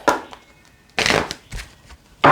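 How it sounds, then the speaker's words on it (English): Oracle cards being shuffled by hand during a twin flame card reading, several brisk riffling bursts separated by short pauses, close and fairly loud, with no talking. "4 shuffles is appropriate"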